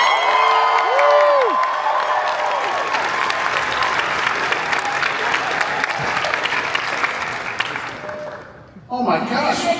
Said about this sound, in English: make some noise for Mr. Charles Gray.